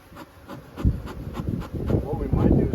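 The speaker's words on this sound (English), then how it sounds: "there's plenty of bees" Honey bees from an opened hive frame a dense, steady buzzing hum through the whole stretch, growing busier and louder toward the end, with handling rubs and knocks mixed in.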